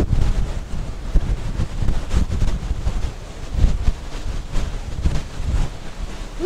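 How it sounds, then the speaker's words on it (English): Steady wind buffeting the microphone outdoors on a cruise ship, with low rumbling gusts rising and falling throughout and no voices. "A little windy, but it feels good in the sun."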